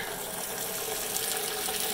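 Water from a garden hose pours steadily into a rain barrel beside a vegetable garden, a continuous close, even gushing rush with no pauses and no talking.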